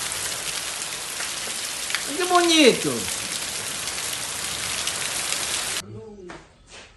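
Rain falls outdoors as a steady, close hiss and patter while a voice briefly exclaims over it; the rain sound cuts off near the end, followed by another short vocal sound.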